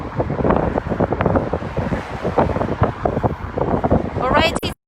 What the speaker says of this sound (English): it's too windy, you cannot hear me clearly.